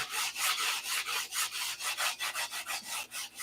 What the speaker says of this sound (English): You want to sand at a 45. This is 80 grit paper here.